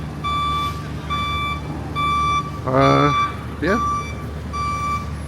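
Lorries being loaded at a port sound steady reversing beeps, evenly spaced and fairly close, while a horn-like tone sweeps through and a person briefly speaks.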